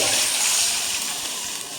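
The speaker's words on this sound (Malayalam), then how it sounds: "ഇഞ്ചിയും പച്ചമുളകൊക്കെ എടുത്തതിലേക്ക് ഇതേ കുറച്ച് വെള്ളം കൊടുത്തിട്ടുണ്ട് അത് നമുക്ക് ഇതിലോട്ട് ഒഴിച്ചു" Water steeped with ginger and green chillies is poured into a cooking pan, making a loud, continuous rushing gush that eases off slightly toward the end.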